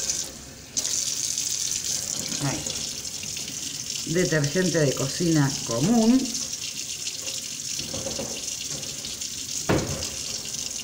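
Cold water runs steadily from a kitchen tap while painted glass bottles are washed with a detergent sponge, a continuous rushing hiss throughout with brief clinks and a short spoken phrase partway through.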